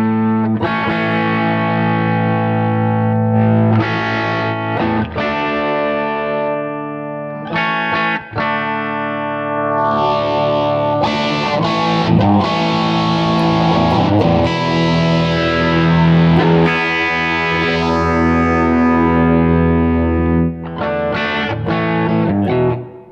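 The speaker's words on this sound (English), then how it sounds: "I have a couple of amps that I like. I know these ones, for example, a clean and a crunch and a lead one." Electric guitar played through Axiom amp presets switching between clean, crunch and lead tones, with distorted chords and sustained notes ringing loudly and continuously, short pauses marking each tone change.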